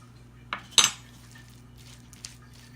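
A utensil works salmon rillette in a bowl, giving a couple of sharp clinks and scrapes against the bowl over a quiet hum, with one fainter tap near the end.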